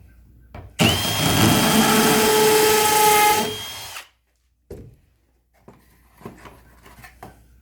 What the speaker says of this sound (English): this is just drilling the bottom onto it